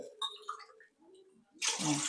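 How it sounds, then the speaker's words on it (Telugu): Water is poured from a glass into a cooking pot for sweet pongal, a short, bright gushing splash at the end after a stretch of faint, scattered kitchen sounds. "గ్లాసున్నరకి మూడు గ్లాసులు నీళ్లు పోస్తాను"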